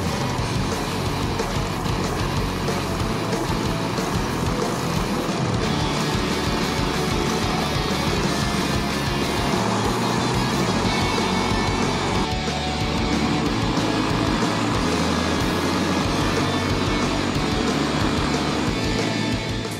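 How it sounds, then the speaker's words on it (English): Hand-built racing karts of up to 18 horsepower running over 70 mph around a track, a constant loud roar of engines and wind with no break. "These hand-built carts producing up to 18 horsepower and traveling over 70 miles per hour around the track"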